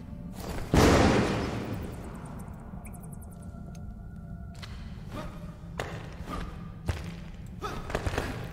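A bomb thrown in the video game Enshrouded bursts with a heavy, booming thud near the start and then fades into a low rumble, followed by scattered lighter game clicks and taps.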